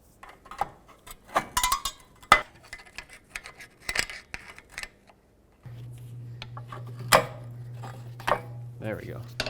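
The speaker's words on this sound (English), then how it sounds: "I'm going to take a pry bar and put it in here. And basically I'm trying to pry this shoe off of this parking brake" A pry bar levers a brake shoe off the parking brake lever during rear wheel bearing and hub work on a 2005-2009 Chevy Equinox, with scattered metallic clicks, scrapes and knocks, then a steady low hum beneath further clanks near the end.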